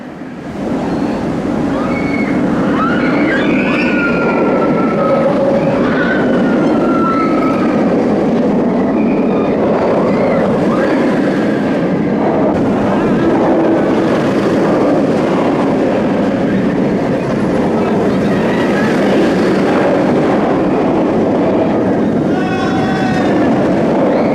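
The Nemesis roller coaster at Alton Towers rushes along its track in a loud, continuous roar of wheels and wind, with screams rising over it throughout the ride.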